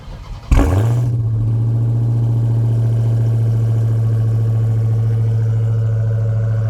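A 2023 Dodge Charger SRT Hellcat Widebody fires up by remote start with a sharp burst, then settles into a loud, steady, deep idle that holds for several seconds.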